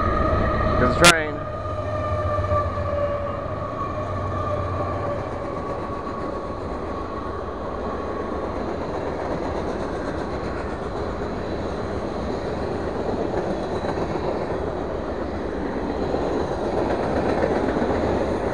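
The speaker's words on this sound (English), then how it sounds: "Here's the train." Train passing near a river, a steady rumbling clatter of rail cars that holds for the whole stretch after a brief sharp squeal or horn-like tone at the start, heard from nearby outdoors.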